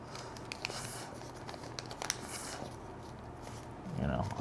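Paper is folded into a chopsticks holder, giving soft intermittent crinkles and rustles close by, quiet and brief, while a person talks.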